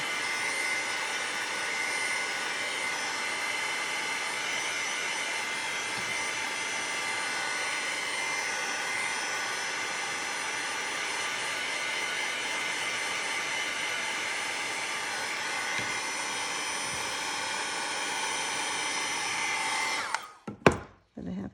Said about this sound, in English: I'm using my heat gun for the sake of time for this video